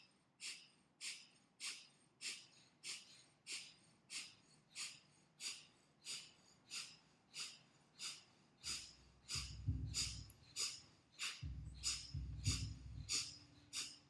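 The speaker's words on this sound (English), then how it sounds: "move into breath of fire if it's in your practice" Rapid rhythmic yogic breath of fire, sharp exhalations pumped from the navel at a steady quick pace, about one and a half per second, faint and close, with a low rumble entering partway through.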